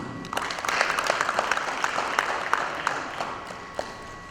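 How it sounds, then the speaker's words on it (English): Applause fills a conference hall at an annual directors conference as the planning committee chairman comes up to the stage, a moderately loud round of clapping with a few sharper individual claps standing out. "Another robust round of applause, please, as he comes up stage"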